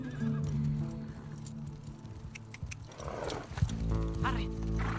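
A horse neighs and its hooves clop along at a gallop in the video game The Last of Us Part II, with a voice talking over the noisy, shifting background.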